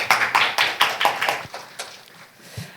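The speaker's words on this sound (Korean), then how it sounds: "큰 박수로 마주해 주시기 바랍니다" Audience applause welcoming a speaker at a Korean K-Digital Training results briefing, a short burst of clapping hands that fades out within a few seconds.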